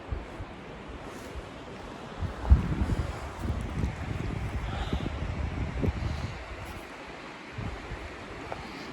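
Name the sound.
wind at night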